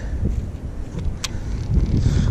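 Cold wind buffeting a microphone outdoors beside a lake on a fishing trip in North Carolina, a loud continuous low rumble that rises and swells toward the end, with no talk.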